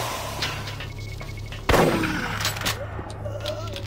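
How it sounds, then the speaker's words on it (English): A shotgun firing in the video game Doom 3: one loud, close blast partway through over a steady humming game ambience, followed by a short decaying tail. "Look at this, like, it's just a very clean shotgun."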